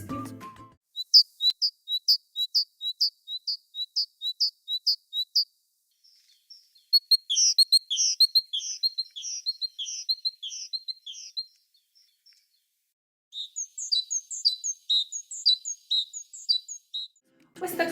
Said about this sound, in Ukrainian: Давайте ще раз послухаємо і подивимось пташку-синичку